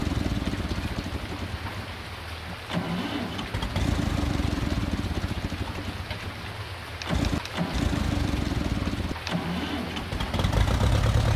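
An old, long-abandoned Ferguson tractor engine is started, giving a rough, continuous low rumble with a few brief dips in power, close by and without talk.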